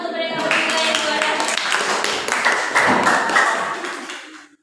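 A class of students claps together for three quiz winners, a dense burst of many hands that holds steady for several seconds and then fades out.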